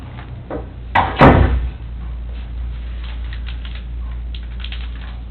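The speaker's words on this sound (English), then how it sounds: "Can we get that door?" A door opens and shuts with a short knock and rattle around the one-second mark, followed by quiet room tone with faint shuffling.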